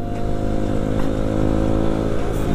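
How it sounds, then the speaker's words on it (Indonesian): A motorcycle on a test ride gives a steady, close, throbbing engine note that holds loud and even throughout, with no voices over it. "pokoknya gas aja test ride sama RC guys kita guys sama si Helman"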